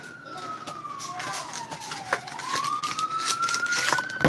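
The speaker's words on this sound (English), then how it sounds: "Of course, this won't be New York without sirens." A wailing siren falls and rises in pitch amid New York City traffic noise, fairly close and growing louder.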